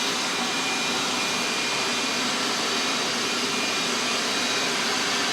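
A shop vacuum roars steadily through a dust separator mounted on a 5-gallon bucket, pulling through a 20-foot and a 10-foot hose; a constant loud broadband whoosh with no talk.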